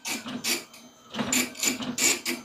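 An Epson PLQ-30 passbook printer prints out its current settings with a busy mechanical chatter, bursts of rattling print-head strokes broken by brief pauses, close and fairly loud.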